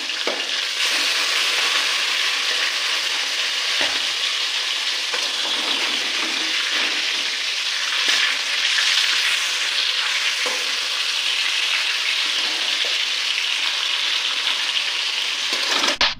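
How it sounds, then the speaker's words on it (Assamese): Large sea fish frying in hot oil, a steady loud sizzle with sharp spatters and pops running throughout, close up and without talk. "এইফালে চাওকচোন, মই কেনেকৈ মাছ ভাজি আছোঁ"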